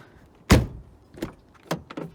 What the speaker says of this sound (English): Let's first test how these doors feel.